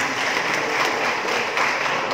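Applause from an audience at an official agricultural visit in Tuban, a dense steady wash of many hands clapping, loud and continuous throughout with no voices standing out.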